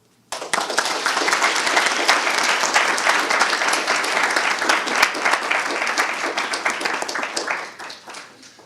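Loud, sustained audience applause for students at a speech contest, starting abruptly and filling the room with dense clapping for several seconds before tapering off.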